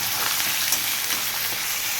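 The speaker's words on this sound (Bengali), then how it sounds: "কড়াই মাংস দিয়ে দিয়েছি" Meat sizzles in a wok, a steady close hiss of frying that fills the whole clip with no talk.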